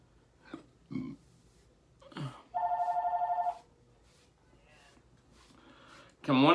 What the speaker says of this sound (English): you might hear the phone ring.